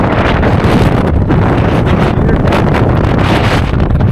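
Strong storm wind buffets the microphone on an exposed road along the Moyle Way in the Antrim Glens. It makes a loud, constant, rumbling roar that drowns out everything else.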